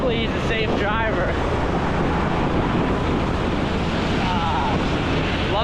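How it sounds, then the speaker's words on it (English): Riding pillion on a Grab motorbike taxi through Bangkok traffic toward Chinatown, heavy wind buffeting roars steadily across the microphone, burying the engine and street sounds, with faint voices briefly audible early on. "we are on a grab bike heading to Chinatown"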